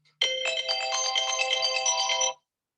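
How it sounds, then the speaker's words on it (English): A phone alarm ringtone plays a bright electronic melody for about two seconds, loud and close, starting and stopping abruptly, with nothing else heard. "That's my alarm to call my son."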